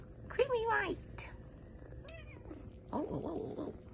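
Fluffy, creamy white kittens give several high, wavering meows in short bursts, close by, with quiet pauses between them and some faint background voices.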